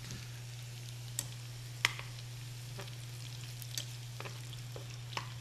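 Shallots frying in a pan at a restaurant kitchen, a steady soft sizzle with scattered small pops and crackles throughout, moderately quiet, under a constant low electrical hum.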